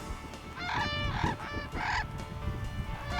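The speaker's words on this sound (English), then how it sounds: "the brogger, an Australian crane, in flight makes a melodious call" A brolga, the Australian crane, calls in flight with several loud, melodious trumpeting notes in quick succession, rich and harmonic over a low background rumble.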